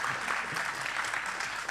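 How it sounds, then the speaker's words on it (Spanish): A creative and cultural talk audience in Frutillar applauds the host, a steady wash of claps that holds at an even level, somewhat distant and soft. "un aplauso para Carlos"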